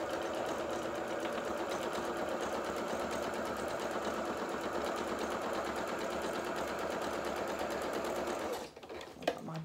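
A sewing machine runs continuously at speed stitching zigzag with a loose mechanical rattle, close and steady, stopping near the end.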